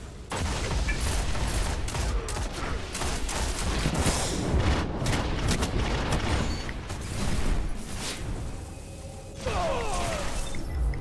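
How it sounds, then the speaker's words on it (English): A grenade blast amid the constant roar of gunfire during a Destiny Iron Banner multiplayer match, with dense explosive booms and rattling shots layered loudly throughout. "Nice grenade."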